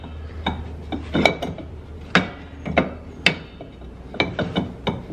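Metal clanks, knocks and scrapes of a brake drum being worked back onto the hub of a Club Car Precedent golf cart, a dozen or so irregular close-up impacts with short rattles between them.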